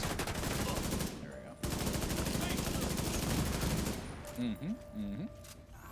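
Dense, sustained automatic gunfire from The Division 2 rattles loudly for about four seconds with a brief gap, then fades into scattered game effects as a player speaks briefly.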